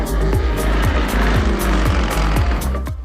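Su-29 Russian aerobatic propeller airplane at an air festival in General Rodríguez, Argentina, its engine droning loud and steady with a pulsing, throbbing rhythm throughout.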